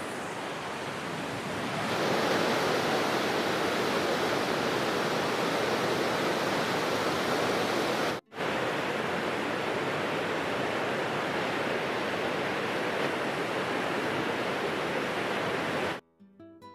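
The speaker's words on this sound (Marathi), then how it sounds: "पाठीमागे सहस्त्रकुंड धबधबा आहे आणि त्याने रौद्र रूप धारण केलेले आहे" The Sahastrakund waterfall in Nanded in full spate, a powerful continuous roar heard close and loud, broken only by a brief dropout before it cuts off near the end, with no talk.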